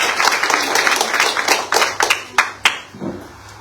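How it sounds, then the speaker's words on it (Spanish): A church congregation claps together in a quick, steady rhythm, loud and close, thinning out into a few last sharp claps near the end. "Dale fuerte palmas a Dios, hermano."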